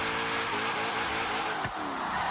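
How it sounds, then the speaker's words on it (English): Simulated car engine screaming at redline in third gear while street drifting in Forza Horizon 3, a steady high-revving whine with a brief dip near the end, loud and continuous with no talk. "Just banging red line in third gear right now."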